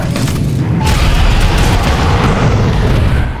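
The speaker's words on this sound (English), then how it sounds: "The environments are partially destructible and there's lots of juicy explosions." Explosions in the video game Serious Sam 4, a loud, sustained rumbling boom with deep low-end roar and crackling debris layered over it, continuous for several seconds without talk.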